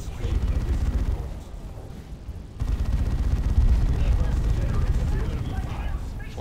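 Dreadnought assault cannon in a Warhammer 40,000 game, a dense rumbling barrage of rapid heavy shots and blasts, loud and continuous with a brief lull mid-way before the din swells again.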